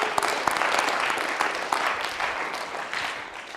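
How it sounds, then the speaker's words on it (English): An audience claps steadily, a dense patter of many hands that fades slightly toward the end. "Yeah, clap for that."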